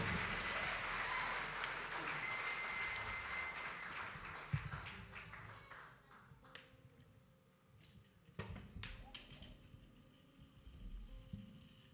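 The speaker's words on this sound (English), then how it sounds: "Give yourselves a round of applause" An audience at a live folk concert in a theater applauds loudly and steadily for several seconds. The applause then fades to scattered claps, with a few louder claps and taps near the end.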